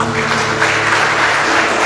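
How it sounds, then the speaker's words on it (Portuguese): Dense, loud applause fills a church congregation for a couple of seconds, steady and sustained throughout. "aplauda o Senhor, aleluia."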